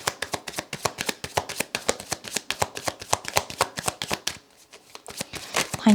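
A deck of tarot cards being shuffled by hand in a quick run of crisp riffling snaps and flutters, close and distinct, pausing briefly before a final rustle.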